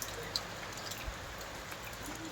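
Rain falls all day in a steady, even hiss, with a few louder drops landing close by.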